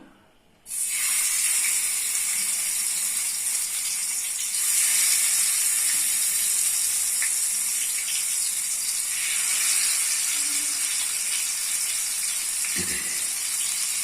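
Pabda fish drop into hot oil and fry with a sudden loud, broad hiss that holds steady and close for several seconds, with faint clinks underneath.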